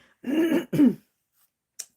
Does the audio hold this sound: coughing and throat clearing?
yes